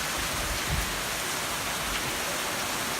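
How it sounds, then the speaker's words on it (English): Heavy rain, with hail starting to come down, pours in a steady, loud broadband hiss, a dense continuous wash of drops on surfaces close by with no talking over it. "A lot of rain."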